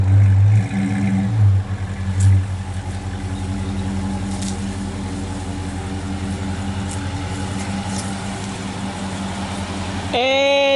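A car with a muffler delete exhaust gives a couple of sharp revs early, then settles into a steady loud idle rumble before a final quick rev near the end.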